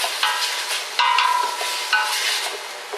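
Bacon sizzles loudly in a smoking hot pan, a close, dense crackle with bursts of spitting and occasional stirring scrapes throughout.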